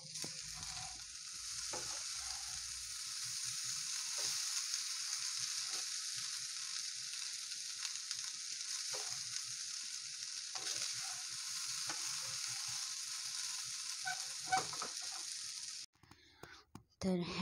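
Spiced vegetable rice is mixed in a frying pan under a steady, hissing sizzle with soft scraping and occasional faint clinks, close and fairly quiet, ending with a few louder knocks.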